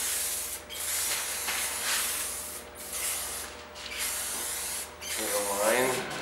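A spray can lays paint lines on a white marble epoxy countertop in several bursts of hissing spray separated by short pauses, with a voice speaking faintly near the end.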